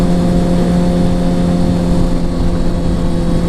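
Engine of a 2007 Kawasaki ZX6R Ninja 600 sport motorcycle on a test ride, a loud, steady droning hum with strong low harmonics holding an even pitch throughout.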